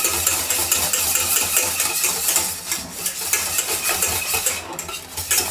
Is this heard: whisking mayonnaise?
yes